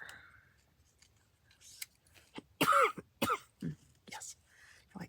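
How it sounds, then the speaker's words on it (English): A single sharp cough breaks out, followed by a couple of short throat-clearing bursts, close and fairly loud amid quiet room sound. "I don't know where that cough came from."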